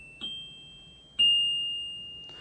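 Recorded notes from a virtual on-screen keyboard play back as two clear, bell-like electronic tones that ring and slowly decay, followed by the onset of a third, with no voices.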